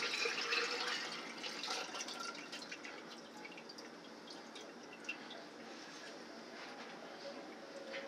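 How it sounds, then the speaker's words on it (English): Used cooking oil is poured from the pan into a metal grease can with a built-in strainer, a faint steady trickle and drip running under low background noise. "So I'm going to put in my used oil grease. It's well flavored, into my grease can with a built-in strainer."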